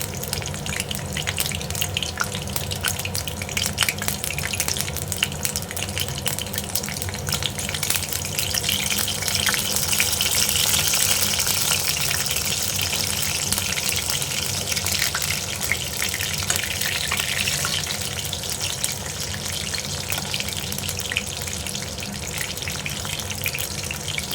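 Bok ful flower fritters (bora) frying in oil at medium heat, a loud, dense, continuous rushing sizzle that holds steady throughout with no talking.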